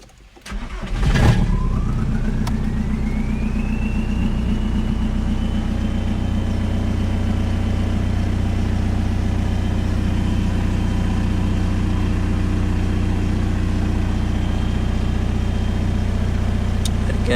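A VW car engine cranks and catches, then rises in a rev before settling into a steady, loud idle that runs on alone, close by, with no talking.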